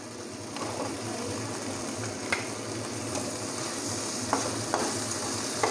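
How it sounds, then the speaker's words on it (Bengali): Potatoes frying in a pan with turmeric, salt and spices for a Bengali doi pomfret jhal, giving a steady close sizzle with occasional stirring clicks and scrapes throughout, no talking. "মশলার সাথে আলুটাও কষিয়ে নেব।"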